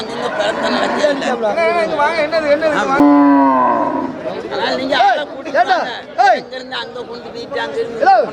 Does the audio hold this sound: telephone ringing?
no